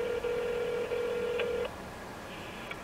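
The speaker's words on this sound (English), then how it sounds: "Now this shit's busy signal." A telephone line tone holds steady for about a second and a half, with brief gaps, then cuts off, leaving a faint hiss. It is fairly close and alone, with no voices.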